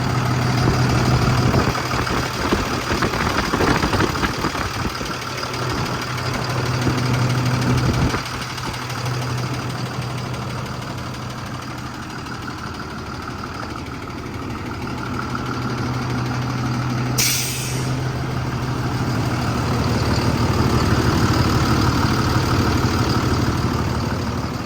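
A Cummins diesel engine in a 2018 International mechanics truck idles steadily, with a loud, even rumble and faint knocking that carries on without a break.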